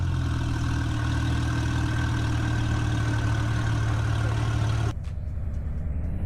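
Steady car engine idle from a Roblox train-building game, a loud constant low drone that runs alone for about five seconds before cutting off abruptly, leaving quieter background noise.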